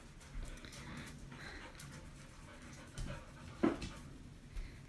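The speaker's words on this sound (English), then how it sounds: "No, it's the dog." An old dog pants after playing ball, quick soft breaths repeating in a faint, steady rhythm close by, with a brief whimper-like sound partway through.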